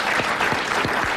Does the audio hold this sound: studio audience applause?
yes